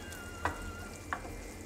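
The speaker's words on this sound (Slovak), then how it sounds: "na slabom plameni za občasného miešania" Pumpkin risotto simmering in a pan over low heat, a soft continuous bubbling with two brief scrapes of a spoon stirring the rice.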